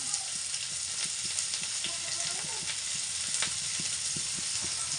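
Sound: frying chopped onion and green chili in oil

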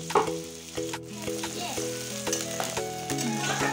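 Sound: onions frying in oil in a kadai

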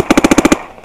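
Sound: Dye NT11 paintball marker firing rapidly

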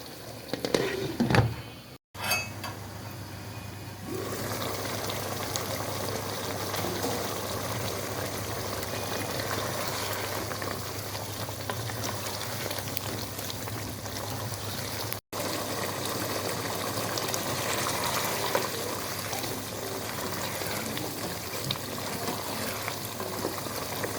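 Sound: chicken biryani boiling in a covered pot

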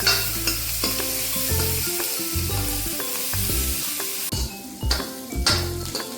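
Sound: cumin, coriander and spices roasting in a pan for kadhi

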